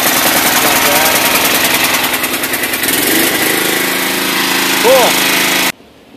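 A riding lawn mower engine cranks and catches, then runs with a rough, pulsing idle at close range before cutting off abruptly near the end.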